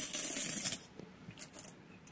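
Old metal coins are handled and dropped, giving bright jingling and clinking at the start followed by a few scattered lighter clinks, close and fairly quiet, with no talking.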